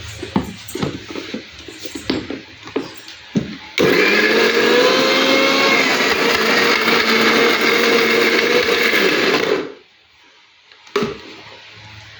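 An electric mixer grinder crushes roasted fenugreek, turmeric powder, tamarind and shallots for an anchovy fish curry, running loud and steady for about six seconds after scattered kitchen clatter, then cutting off abruptly.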